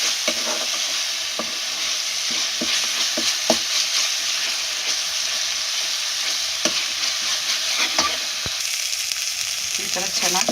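Turmeric powder frying in oil in a pan, a loud steady sizzle with frequent stirring scrapes and ticks from the spatula, continuous for the whole stretch.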